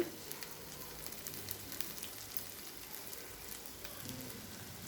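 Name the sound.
sautéing steamed rice in a pan on the gas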